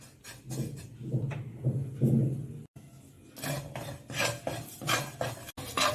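A spoon scrapes and clinks against a kadai as cumin and caraway seeds are stirred and lightly toasted, an irregular close-up rattle with short gaps.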